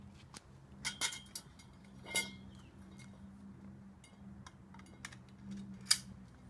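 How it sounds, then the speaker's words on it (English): Sectioned tent poles are clicked together at their tapered ends, giving several faint sharp metallic clicks spaced irregularly over a quiet background hum. "You're going to take the tapered end, and you're going to click."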